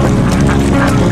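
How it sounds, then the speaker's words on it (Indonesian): A dense flock of Alabio ducks in South Kalimantan, Indonesia, quacking continuously nearby, many overlapping calls forming a busy chorus with a steady background hum. "hanya gerombolan itik yang saya lihat"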